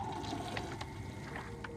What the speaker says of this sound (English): Water go down the hole.